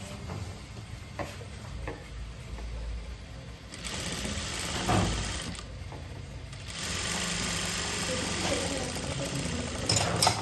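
A sewing machine stitches a kurti in bursts, its whirring motor running steadily with pauses and clicks, heard close and moderately loud, with some speech nearby.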